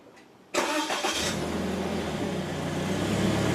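A brand new car's engine cranks and catches with a sudden burst, then settles into a smooth, steady idle heard from nearby, with no talking over it.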